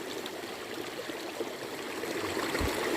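River water rushes steadily over rocks, a dense, continuous stream noise close by with a low gurgle near the end, no voices.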